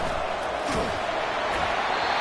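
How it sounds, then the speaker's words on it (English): Stadium crowd at a football game roaring to spur the defense on in the red zone, a dense, sustained wall of cheering noise across the whole moment. "here comes the noise. This crowd is trying to inspire this defense to make a big red zone stop."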